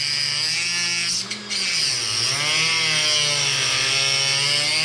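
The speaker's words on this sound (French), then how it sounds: "Donc je vais y aller au Dremel." A small Dremel rotary cutter whines at a high, steady pitch as it cuts aluminium held in a vice, loud and close, with one brief dip partway before the cut resumes.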